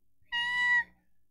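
A voice imitates wheezing, asthmatic breathing: one short, strained, whistling breath lasting about half a second, heard alone against silence.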